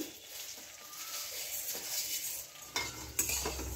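Raw vermicelli (simui) fries in a pan for a Bengali sweet, giving a soft, steady sizzle with a few light clinks of a spatula against the metal near the end.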